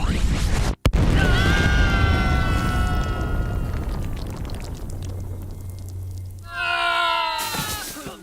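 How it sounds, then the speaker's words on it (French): A cartoon magic explosion from an elemental fusion spell roars as a loud, sustained rumbling blast with shimmering tones, fading and then rising again in a second whooshing swell. "Quelle explosion!"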